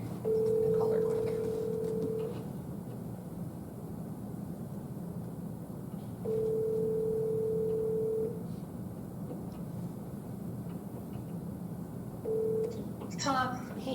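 Telephone call placed at a city council meeting, with a steady dial tone that sounds in three separate stretches and a brief burst of dialing near the end, all over room noise and murmured talk.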